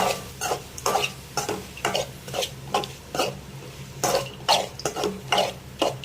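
Grated coconut sautéed for tomato chutney is stirred in a pan, with about a dozen rhythmic spatula scrapes over a soft, steady sizzle, close by and with no speech.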